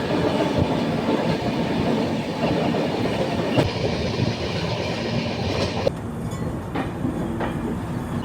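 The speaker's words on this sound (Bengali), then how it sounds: "হাওড়া থেকে 1262 কিলোমিটারের পথ অতিক্রম করে আমাদের ট্রেন এখন চলে এসেছে অন্ধ্রপ্রদেশ রাজ্যের গুন্টুর জংশনে" The Falaknuma Express passenger train runs from Howrah toward Hyderabad near Guntur Junction in Andhra Pradesh. Heard from on board, it makes a continuous loud rumble with wheels clattering over the rail joints.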